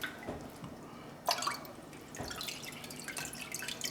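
Water runs and drips in a kitchen sink as a brined turkey is rinsed, a soft steady splashing with a brief louder spatter partway through.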